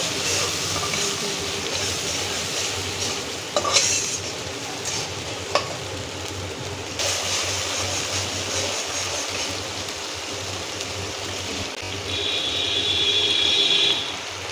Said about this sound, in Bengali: একটু জল দিয়ে দিচ্ছি, অল্প একটু কষায় নেব।